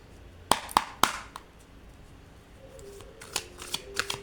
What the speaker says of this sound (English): let's just grab a couple of these cards